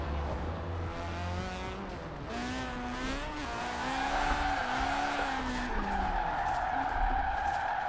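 In Forza Horizon 4, a rotary-engined drift car slides sideways, its tires squealing continuously over a high, whining engine that rises and falls. The loud skid runs unbroken throughout, with no talking.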